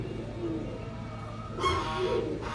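A soft, low coo from a female pigeon sitting on eggs sounds nearby over a quiet background hum, followed by a brief burst of hiss and a second faint coo.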